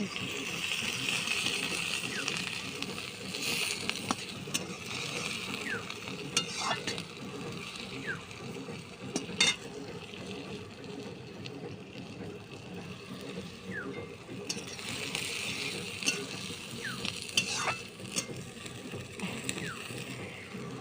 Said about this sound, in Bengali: এই যে পেঁয়াজ দিয়ে দিচ্ছি